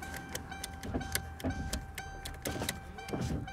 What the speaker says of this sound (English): Okay, all the windows are working.